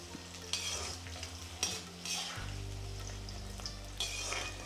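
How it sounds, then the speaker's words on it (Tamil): Small onions sauté in oil for Chettinad vendhaya kuzhambu, giving a steady close sizzle broken by a few scraping stir strokes, with a low hum underneath. "இப்படி வெங்காயம் நல்லா எண்ணெயில் பொன்னிறமாக வரந்துட்டிக்கு நல்லா வதக்கணும்"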